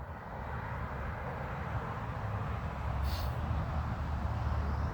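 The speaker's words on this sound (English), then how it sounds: "That's the sound of traffic." Outside street traffic makes a faint, steady low rumble and hiss from distant vehicles, with no distinct passing car standing out and no talking.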